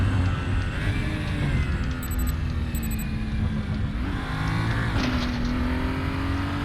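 A BMW 235i race car in the Raceroom racing game drones loudly and steadily at the Bilsterberg circuit, its engine pitch shifting as it brakes, changes gear and accelerates again, with no voice over it.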